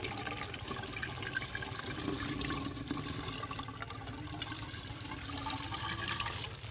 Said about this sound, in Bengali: জল ভর্তি হচ্ছে